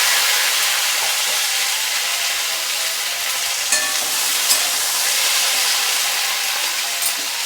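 Potatoes and pointed gourd frying in a pan with dried chili and panch phoron: a steady, loud, close sizzle and hiss throughout, with occasional soft stirring scrapes.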